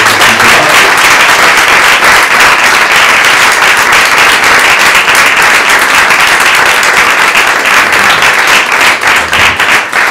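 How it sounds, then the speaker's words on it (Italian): Loud, sustained audience applause fills the hall at the City of Rome Prize for Italian Fiction award ceremony, dense clapping that holds steady for about ten seconds with no talk. "I think our authors deserve a big round of applause."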